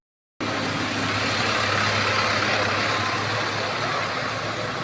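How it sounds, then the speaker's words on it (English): A distant farm tractor engine drones steadily in rural Philippine farmland, a continuous low rumble holding at an even level for several seconds with no talk over it. "It's like the tractor's off to work."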